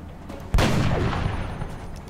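A single sharp sniper rifle shot in XCOM: Enemy Within, a loud sudden crack with a heavy low boom that rolls into a long fading tail.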